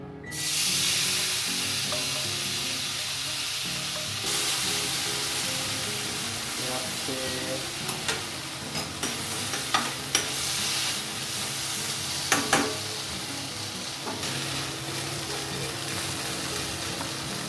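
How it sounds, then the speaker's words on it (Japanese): Meat searing alone in a frying pan, a loud, even sizzle that starts abruptly and keeps going, with occasional spatters and clicks close by. "お肉だけで一回焼きます"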